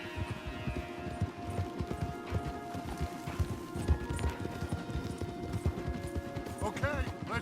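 Horses in Red Dead Redemption 2 clip-clop at a steady walk along a wooded path, hooves thudding rhythmically close by, with a brief whinny near the end and someone talking over the hoofbeats.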